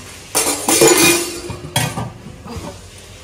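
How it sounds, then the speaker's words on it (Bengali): Dishes, pots and pans being washed by hand in a home kitchen: a few sharp metallic clinks and clatters in short bursts, close and clear with no talking. "এইদিকে কয়েকটা বাসন আছে, সেগুলো ধোবো।"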